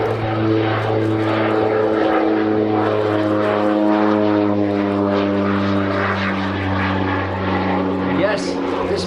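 A North American OV-10 Bronco makes a dirty pass at an airshow with flaps and undercarriage down, its loud, steady turboprop drone and propeller hum holding throughout while a commentator speaks over it.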